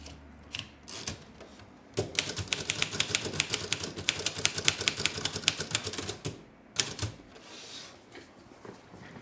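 A type sample goes down on a manual typewriter at close range: a few isolated key strikes, then a quick burst of dense, rhythmic clacking, a pause, and a last scattering of keystrokes.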